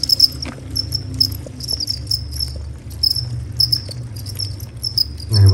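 Crickets kept in a garden chirp in steady, repeated trilling bursts, close and clear, with no voices over them.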